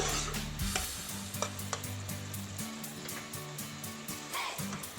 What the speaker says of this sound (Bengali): এবার আমি এভাবে ম্যাশ করে নিচ্ছি।